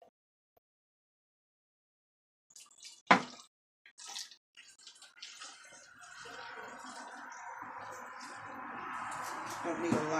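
Water is poured from a container onto soil in a plant pot planted with Red Russian kale. It starts with a few drips and splashes, then becomes a steady trickle that grows louder toward the end.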